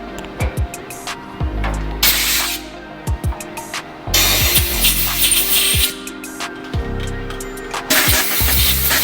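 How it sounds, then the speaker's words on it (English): A power tool cuts down a bolt of half an inch or more, coming in repeated loud bursts of harsh, hissing grinding broken by short pauses and clanks. "I'll just cut that bolt down"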